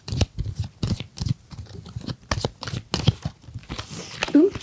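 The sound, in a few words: shuffling a deck of cards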